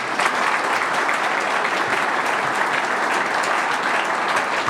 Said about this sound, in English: can everyone give her a round of applause, please?